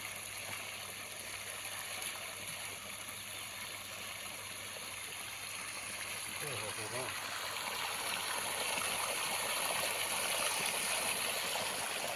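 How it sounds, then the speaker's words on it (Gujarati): Irrigation water from a village well runs into a large farm field at dusk, making a continuous soft rushing trickle that grows slightly louder toward the end, with a voice speaking faintly over it. "પાણી મૂક્યું છે ખેતરમાં."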